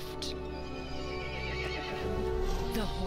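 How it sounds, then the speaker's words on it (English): A horse neighs loudly in the video game Resident Evil Village, a drawn-out whinny over a steady game background, with a second cry rising near the end. "The horse grew angry and summoned the other monsters."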